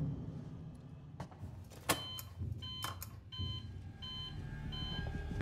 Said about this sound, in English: It's beeping. Probably not a good thing.